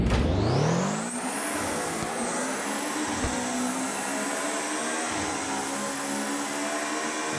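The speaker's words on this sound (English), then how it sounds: "The Subaru Impreza 22B, the rally version, is what we have here." A high-revving Subaru Impreza 22B rally flat-four engine in a video game climbs sharply in pitch, then holds a loud, steady drone with a buzzy, raspy tone throughout, no voices.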